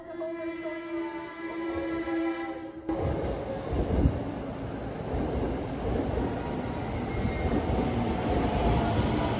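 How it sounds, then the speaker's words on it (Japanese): The Sunrise Seto and Sunrise Izumo sleeper express train rolls into a Japanese station with a steady rumble of wheels and carriages, preceded by a sustained tonal hum that cuts off abruptly. "特急サンライズ瀬戸、サンライズ出雲到着でございます。"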